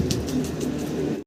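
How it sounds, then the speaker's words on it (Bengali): Roman pigeons coo in a short, soft, repeated rolling call, heard close up and alone without talk. "এই 4 পিস রোমান গাল কবুতর।"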